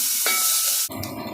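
Garlic and onion sautéed with annatto seeds in a pan for a Western Visayas cansi sour soup, a steady close sizzle and hiss broken by a sharp burst of frying as ingredients hit the hot oil, with no voices.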